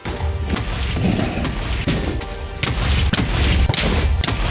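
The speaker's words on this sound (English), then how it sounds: "now let me take out these crystals" End crystals blow up in the Minecraft video game as a series of loud, heavy booming blasts follow one another, each with a crashing rumble that keeps building and grows stronger toward the end.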